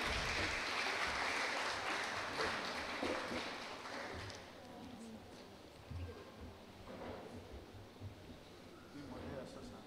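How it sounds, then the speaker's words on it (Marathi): Audience clapping to welcome a guest onto the stage at a health talk event, a dense wash of applause that is loud at first and gradually thins out, heard from within the hall. "सर्वांनी टाळ्या वाजवून त्यांचं आपण स्वागत करूया."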